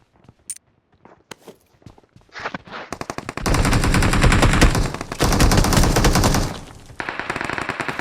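Rapid automatic gunfire from a winter-themed shooter video game match, starting with a few scattered shots and then bursting into loud sustained volleys that break off briefly before resuming.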